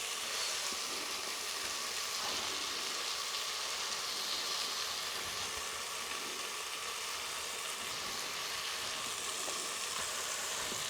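Chicken gizzard with a spice mix frying in a pan, a continuous, close, hissing sizzle with occasional stirring scrapes, steady and even from start to finish.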